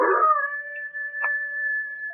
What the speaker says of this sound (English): what's the matter with that hound dog of yourn? Doing a powerful lot of howling tonight, ain't he?